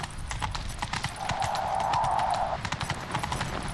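Rapid galloping horse hoofbeats in the game The Witcher 3: Wild Hunt pound steadily throughout, with a brief higher whinny-like tone in the middle, all fairly loud and close.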